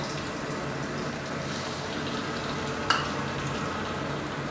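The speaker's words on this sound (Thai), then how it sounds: "ผัดให้เหลืองหอมก่อนนะครับ เสร็จแล้วก็ตามด้วยกุ้งครับ" Shrimp stir-fry in a wok with fragrant herb paste for a spicy seafood pad cha, a continuous close sizzle with one sharp clank of a utensil midway, no voices.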